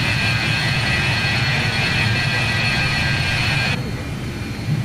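Loud, steady roar of BAe 146-100 jet engines at takeoff power in a flight simulator, a broad rushing hiss over low rumble that holds throughout, then drops slightly in level near the end.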